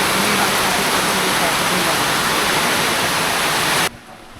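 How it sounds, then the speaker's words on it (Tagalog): Heavy rain pours steadily on a house, a loud, dense, even hiss close by that cuts off sharply near the end. "Pag malakas po pala talaga ang ulan, basa dito sa loob"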